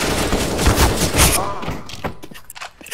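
Rapid bursts of gunfire from a first-person shooter game, loud and close, fading into scattered shots, with a voice partly mixed in.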